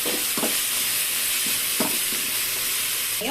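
Vegetables sizzle steadily in a pan with tomato and green chili just added, a constant bright hiss broken by periodic scraping stirs, without any talking.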